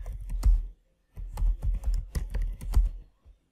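Computer keyboard keys are typed in quick bursts while entering a terminal command on Linux Mint, close and crisp, with a short pause before a second run of rapid clicks and a final single tap.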